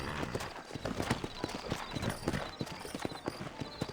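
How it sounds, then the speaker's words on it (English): Horse hooves clip-clopping at a steady walking rhythm in the Western video game Red Dead Redemption, close and fairly loud, with faint ambient background and no talk. "You ain't gonna find sturdier horses than these in all of New Ulster."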